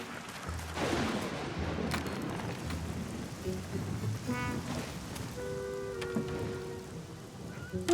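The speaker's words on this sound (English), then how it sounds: "It's raining cats and dogs." Heavy storm rain in an animated series, a steady loud downpour hissing on surfaces with a few sharp knocks and thuds, and some tonal music-like sounds toward the end.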